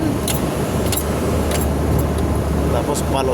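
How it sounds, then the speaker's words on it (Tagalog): Heavily loaded dump trucks rumble past on a dark, unlit rural road in Ibaan, Batangas at night, with a steady loud engine drone and road roar throughout and brief rattling clanks on top. "Ang bibigat ng mga karga niyan, mga dump truck na yan."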